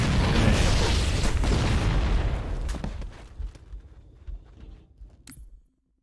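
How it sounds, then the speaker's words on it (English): Grenade explosion in Halo: Combat Evolved, a loud close boom with a heavy rumbling burst that fades over a few seconds into scattered thuds and small game sounds before cutting off. "Grenade. Grenade."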